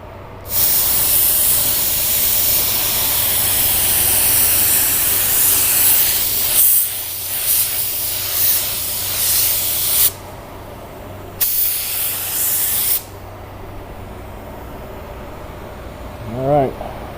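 LVLP automotive paint spray gun applying a light dusting coat, a loud close hiss in long bursts broken by short pauses, with a faint voice at the end.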